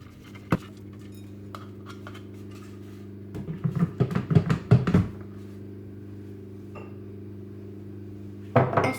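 Blended granola ingredients from a Monsieur Cuisine processor are tipped into a salad bowl, giving scattered clatters and scraping knocks of bowl and utensil, busiest in the middle, over a constant low kitchen hum.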